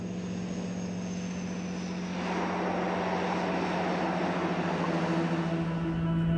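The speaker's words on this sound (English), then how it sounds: "one of Japan's most distinctive aircraft of all, the Shinmeiwa" Steady drone of a ShinMaywa US-2 amphibious aircraft's engines, a constant tonal hum that swells slightly louder partway through, with no voices.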